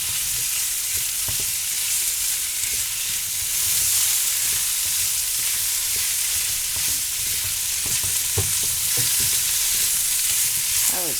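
Beef sizzles and fries in a hot pan for lo mein, a loud, continuous hiss close by, with occasional scrapes and knocks as the meat is stirred around.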